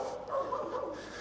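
Dogs and puppies heard at night in a street setting in Zhaoqing, China, with a short whimpering yip or bark rising over faint background noise, moderately close.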